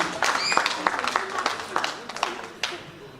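A gathering at the fifth anniversary of the Osun Descendants Union in Ireland gives a short, light round of applause to welcome the ambassador as a speaker; scattered claps sound fairly close under murmuring voices.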